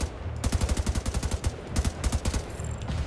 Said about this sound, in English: This gun's really powerful,